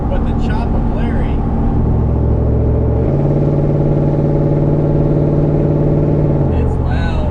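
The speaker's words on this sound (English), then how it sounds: "This is the hardest chopping truck I've ever had." Loud truck engine with a heavy choppy idle, a steady throbbing low rumble that carries on close and constant throughout, with a voice briefly over it at the start and end.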